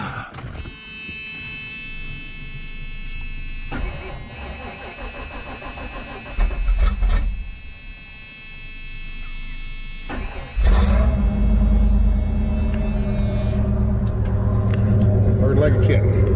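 An old pickup truck engine cranks and catches, then runs and idles with a steady mid-pitched drone that grows louder and rougher as it revs; nobody speaks over it.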